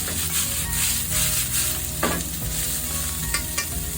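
Soft cabbage stir-frying for yakisoba, a steady close sizzle with spatula scrapes and stirring knocks throughout, loud and continuous with no talking.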